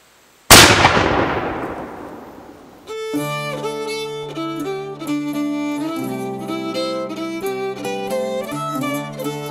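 A War of 1812 cannon fired by a historic portrayal crew at Mississinewa gives one loud, close blast with a long decaying rumble, after which a fife-and-drum-like tune plays steadily.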